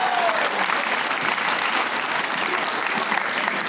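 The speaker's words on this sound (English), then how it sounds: "Give her a round of applause." Audience applause fills a clean comedy show, a steady dense wash of clapping from a crowd, loud and sustained throughout with no talk over it.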